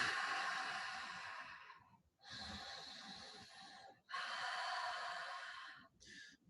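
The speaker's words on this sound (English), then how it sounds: "an auditable inhale and exhale through the nose. A slight rasping sound, almost like a snoring sound" Ujjayi yoga breathing through the nose, three long rasping breaths with short pauses between them and a fourth just starting, close and soft, with a hoarse, snore-like texture.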